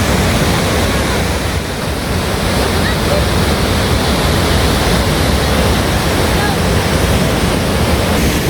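A waterfall in Wales roars in a continuous, dense, loud rush of falling water on a rainy day, with no break across the whole stretch.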